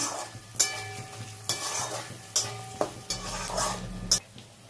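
Dal being lightly fried and stirred in a pan, with steady sizzling and repeated scraping strokes of a spoon against the metal, close and clear with no talking.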